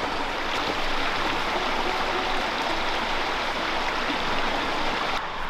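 Azalea Cascades, the smallest waterfall in DeSoto State Park, gives a steady, close rush of falling and splashing water, an unbroken hiss that stays even throughout with no voices.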